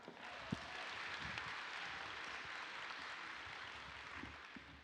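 Sustained applause from a graduation ceremony crowd at Coppin Academy, steady dense clapping filling the hall for several seconds with a few sharper claps standing out.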